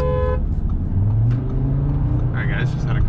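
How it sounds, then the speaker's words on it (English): A car passes close by in traffic, its engine and tyre noise rising and falling with a brief horn-like tone at the start and people talking over it. "Just had a car coming right in my lane."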